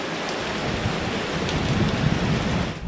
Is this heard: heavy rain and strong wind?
yes